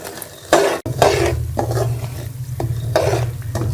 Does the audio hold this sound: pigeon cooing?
no